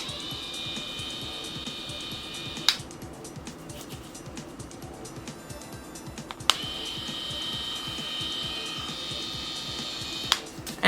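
Duvolle Radiance facial cleansing brush running alone, a steady close motorized whir with the brush head turning in one constant circular motion, broken by a few sharp clicks or taps.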